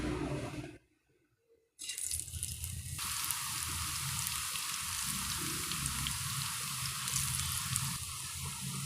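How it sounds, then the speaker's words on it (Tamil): Raw plantain slices dropped into hot oil for chips, a steady loud sizzle and bubbling that cuts out briefly near the start, then resumes, growing fuller and brighter as more slices go in. "இப்போ நாம் ஒன்று ஒன்றா போட்டு பொரிக்க ஆரம்பிச்சிடலாம்."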